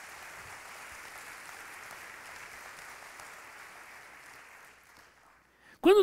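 A congregation at a Portuguese-language church service gives sustained applause for about five seconds that gradually fades out, followed by a brief loud burst at the very end.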